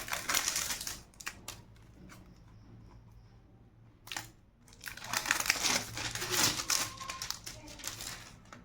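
Plastic packaging around a fish oil tablet supplement is torn and crinkled open, with bursts of close rustling and crackling separated by pauses, under occasional talking.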